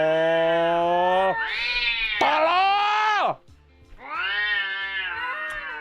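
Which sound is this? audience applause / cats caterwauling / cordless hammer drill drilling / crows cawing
cats caterwauling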